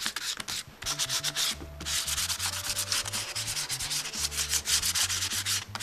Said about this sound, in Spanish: La lija suave es para que no pelemos el acrílico que ya le hemos aplicado.